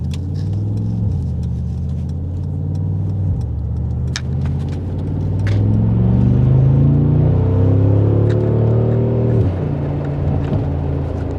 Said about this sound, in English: You can really hear that throaty V8.